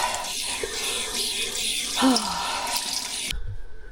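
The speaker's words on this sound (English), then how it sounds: "let's rinse me cloth." A cleaning cloth is rinsed in water inside a motorhome, giving a trickle of splashing and dripping that runs steadily for a few seconds before stopping abruptly, fairly close.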